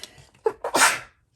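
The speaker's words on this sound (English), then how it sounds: "Oh, I'm gonna sneeze." A single sharp human sneeze with a short inhale and catch before it, close and loud, then quiet.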